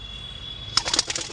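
A quick flurry of wing flaps from Kalshira and Laljira pigeons taking off, following a quiet steady background hum.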